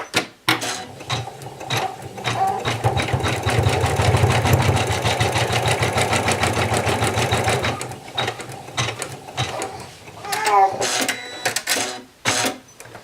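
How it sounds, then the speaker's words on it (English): An embroidery machine sews the placement stitch for a felt applique, a dense, fast, steady mechanical stitching chatter for about seven seconds before stopping, followed by scattered clicks and handling noises. "the first part of the applique is going to be a placement stitch"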